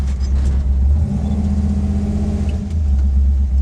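A car engine gives a loud, steady low rumble close by, holding an even drone throughout with only a slight dip near the end and no talk.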